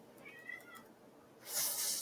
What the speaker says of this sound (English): my cat meowing distracted me for a second